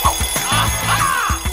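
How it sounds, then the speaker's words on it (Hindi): A break bell rings loud and close in quick repeated electric trills, an alarm-like clatter over about a second and a half. "अरे घंटी बज गई, छुट्टी।"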